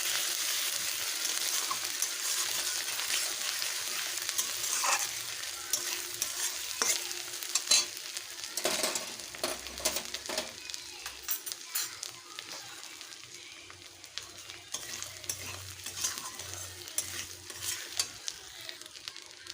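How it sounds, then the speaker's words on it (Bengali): Spices with ginger-cumin paste and chili powder are stirred and fried in a pan for a paneer moong dal, giving a continuous close sizzle with scraping stirring strokes that eases slightly later on. "লঙ্কা গুঁড়ো ভালোভাবে কষে নেব মশলাগুলোকে"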